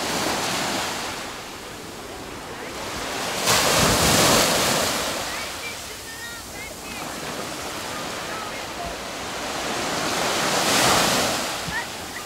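Sea waves wash steadily onto a sandy beach at Konakli near Alanya, Turkey, a continuous roar of surf that swells twice into louder breaking surges, with wind buffeting the microphone.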